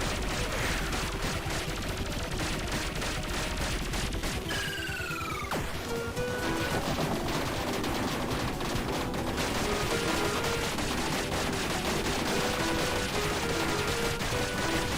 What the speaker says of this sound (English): You're shooting lasers.